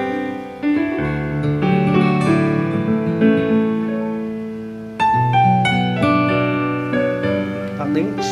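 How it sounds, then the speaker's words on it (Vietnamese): An acoustic guitar voice layered over another sound on a Roland BK arranger keyboard, playing a sustained chordal passage with a fresh strummed attack midway, close and clear, no talk. "ví dụ tiếp theo của nó là tiếng guitar acoustic."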